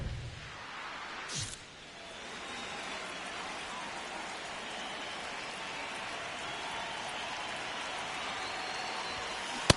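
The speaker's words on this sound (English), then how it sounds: "This rain is not letting up." Steady rain falls during a baseball game in MLB The Show 26, a continuous broadband hiss of moderate level that holds for nearly ten seconds after a brief swoosh near the start.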